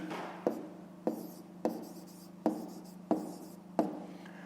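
A pen writes by hand during a fifth-grade maths exercise, six crisp, evenly spaced strokes or taps, each followed by a short scratching trail, close and quiet with no talk.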